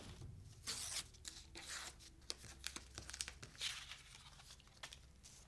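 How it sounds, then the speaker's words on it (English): Tape is peeled off a taped marquetry veneer packet of maple and walnut pieces, giving soft intermittent tearing and crinkling close by in a quiet room. "Let's untape the packet."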